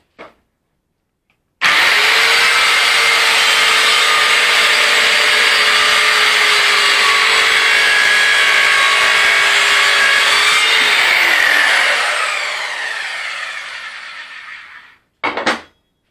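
A loud Evolution R185 CCS circular saw whines up and cuts steadily through a 6 cm wooden beam for about ten seconds, then slows and winds down, followed by a brief final burst.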